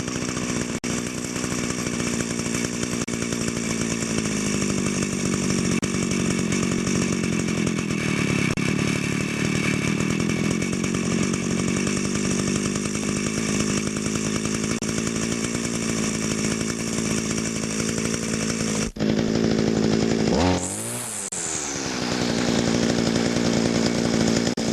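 Small two-stroke string trimmer engine with a clutch, running and idling at a steady buzzing drone, close and loud, with a brief throttle change near the end.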